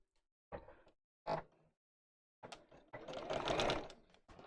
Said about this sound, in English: Right, let's sew down here.